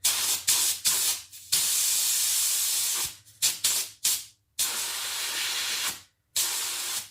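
Air hisses out of a compressor nozzle in short repeated bursts while a Kuba Black Cat motorcycle tyre is inflated. The bursts are loud and close, about eight of them, separated by brief silent gaps.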